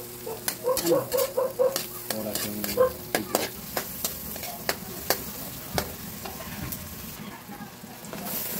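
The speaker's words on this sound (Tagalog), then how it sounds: "Hipon ang lulutuin daw niya. Ayan, nakalutang pa sa butter." Shrimp frying in butter in a pan, with bright crackling sizzle, scraping stirs and repeated clanks of a utensil against the pan, close and fairly loud.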